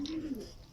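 A single short, soft coo from a racing pigeon arriving at its loft after a race, heard close and on its own.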